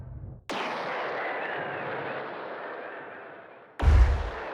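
A heavy weapon in the ship-building game BossConstructor 3 fires two big shots: a sharp blast followed by a long roaring, slowly fading rumble, then a second deep, booming shot near the end.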